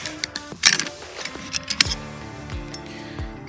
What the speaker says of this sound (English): you're going to pull out your charging handle, pulling out your bolt carrier group